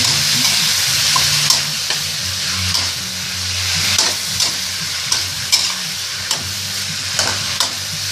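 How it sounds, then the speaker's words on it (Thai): Chinese kale with oyster sauce stir-fried quickly over high heat in a wok gives a loud, steady sizzle, broken by rhythmic scrapes and clacks of the spatula roughly once a second. "ผัดไวๆนะครับขั้นตอนนี้เดี๋ยวจะไหม้นะข้างล่าง ผัดเร็วๆเลยนะฮะ"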